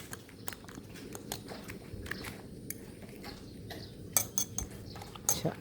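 Eating-show chewing of a fried Thai omelet, with repeated close crunchy bites and a few clinks of cutlery against a dish, steady through the clip and no talking.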